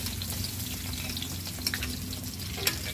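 Garlic sizzles in hot cooking oil with a steady, dense crackle and hiss, close and fairly loud, with a few brighter pops and a faint clink toward the end.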